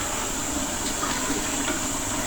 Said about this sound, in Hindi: हम लोग पानी ऐड कर रहे हैं